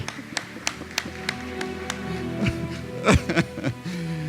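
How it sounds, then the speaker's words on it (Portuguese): Scattered applause from an audience at an award ceremony, individual sharp claps spaced out rather than a full roar, with a voice and some low murmuring running underneath. "Eu queria que vocês dessem uma salva de palmas para essa mulher"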